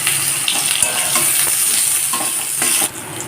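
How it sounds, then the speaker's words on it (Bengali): Raw mango pieces sizzle and fry steadily in a pan with dried red chilli and a bay leaf, a continuous loud hiss broken by occasional stirring scrapes, with no talking. "আমগুলোকে দিয়ে প্রথমে ভেজে নেবো"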